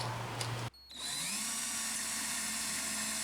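A power drill drilling parts for a CNC router's Y axis starts up with a sharp whine after a brief pause, then runs steadily at high speed, loud and close.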